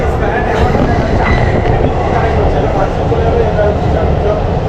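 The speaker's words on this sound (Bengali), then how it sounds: "ট্রেন কিন্তু চলে এসেছে হাওড়া স্টেশনে" An underwater metro train pulls into Howrah station, its loud, continuous rumble and rail noise filling the space close by, with no clear speech over it.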